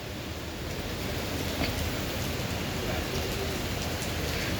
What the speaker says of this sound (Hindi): यहाँ बहुत तेज़ बारिश हो रही है